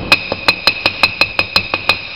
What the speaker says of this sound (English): take your hammer and just tap it in until it's flush